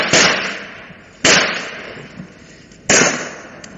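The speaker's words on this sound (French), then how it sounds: "tirez sur les fenêtres!" Three loud, sharp gunshots from a French radio drama sound effect, fired at windows, each cracking out and then fading, spaced roughly a second and a half apart with no voices between them.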